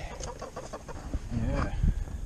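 Chickens on a snowy winter homestead cluck in short, close bursts with a few higher squawks, a busy little cluster of fowl sounds over faint background.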